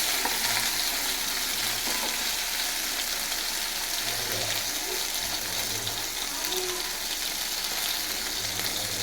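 Fish fry sizzling in oil in a pan, a loud, continuous crackle with occasional stirring scrapes, close up throughout.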